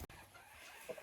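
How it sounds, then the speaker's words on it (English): An injured hen gives a couple of brief, quiet clucks near the end of a short, otherwise hushed stretch outdoors by a flock's pen. "Step one on introducing Hennifer back to the flock, I set her down on the outside of the pen."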